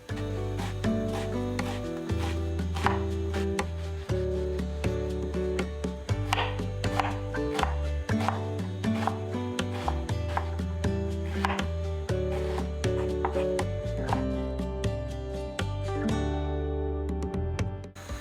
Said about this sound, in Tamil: ஒரு மீடியம் சைஸ் வெங்காயத்தை தோல் உரிச்சிட்டு நல்லா பொடியாக கட் பண்ணி எடுத்துக்கலாம்